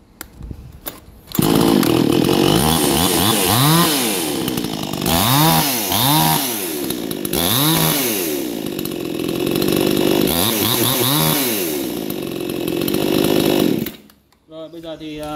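A small two-stroke brush cutter engine roars steadily at close range, its pitch rising and falling in repeated revving bursts before cutting out near the end.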